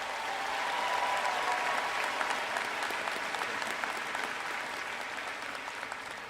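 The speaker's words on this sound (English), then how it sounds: "let's have one more round of applause for all those folks that have helped you get here" Sustained applause from a large crowd at a university commencement ceremony in an indoor arena, steady clapping throughout with no pauses, fairly loud and continuous.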